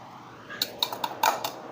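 Ground semolina mixture for rava laddoo is scraped from a grinder jar into a small bowl in a home kitchen, giving five or six light metallic clinks and taps spaced unevenly over a soft background hiss.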